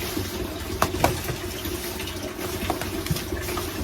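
Water is poured into worm bin bedding with a steady, trickling splash and a few soft wet thumps as it soaks in, close and moderately loud.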